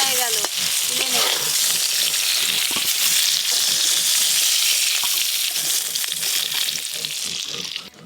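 Cut and washed eggplant slices with salt and turmeric frying in hot mustard oil in a pan, a loud, dense, continuous sizzle with occasional stirring scrapes that eases slightly toward the end.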